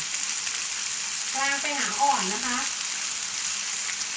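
Pork steak frying in a single pan over medium heat, a steady close hiss of sizzling fat, with a brief tonal whine riding over it partway through.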